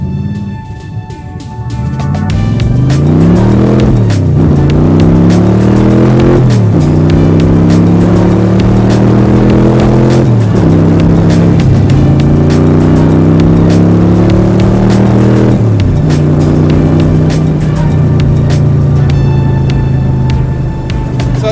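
Modified cars rumble past on Isle of Wight streets, engines revving up through repeated gear changes with loud, close, droning exhaust that climbs and drops several times.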